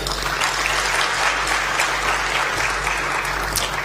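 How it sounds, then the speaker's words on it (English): A crowd at a cash competition grand finale breaks into sustained applause, dense and loud, holding steady across the whole stretch without letting up. "I think it deserves a big clap."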